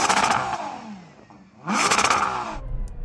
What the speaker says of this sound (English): I can't believe how quickly this engine revs up for an SUV's engine.